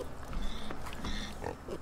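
Pigs in a pig barn in Farming Simulator 15 grunt and oink in a close, continuous jumble of several short calls, fairly quiet and without speech.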